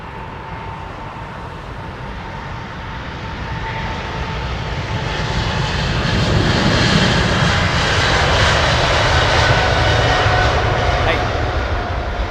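A passenger airliner's engines roar on takeoff at London Heathrow, a loud broadband rumble that swells and holds steady across the climb, with people talking faintly beneath it.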